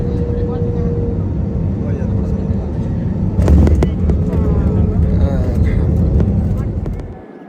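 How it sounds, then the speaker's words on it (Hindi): An airliner touching down at Dhaka airport, heard from inside the cabin as a steady low engine roar, with a jolt and rattling bumps midway as it lands, before the noise fades out. A voice talks over it. "अब ये with in few seconds land करने लगा है जहाज़"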